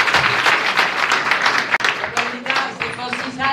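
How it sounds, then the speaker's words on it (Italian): Audience applause at a political gathering opening the new Forza Italia headquarters: dense, steady clapping from a crowd throughout, briefly dipping mid-way, with a voice beginning to speak over it toward the end. "sollecitando un affettuoso applauso"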